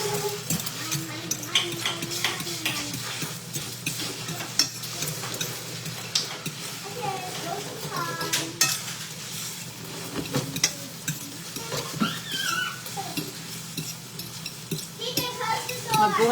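Scrambled eggs being stirred and fried in a pan, with utensils scraping and clinking over a steady sizzle throughout, while people talk nearby.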